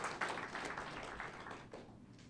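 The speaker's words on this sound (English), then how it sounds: "a round of applause." At a central bank council ceremony, an audience gives a round of applause for a young steel pan player, a brief, fairly close burst of steady clapping that tapers off after about two seconds.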